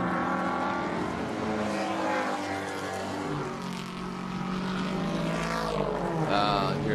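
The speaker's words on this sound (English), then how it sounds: "Hear that thunder of that V8." A V8 GT4/GTS race car roars during a 2017 Pirelli World Challenge race at the Mid-Ohio Sports Car Course, a loud, steady engine drone whose pitch climbs sharply toward the end as it bears down.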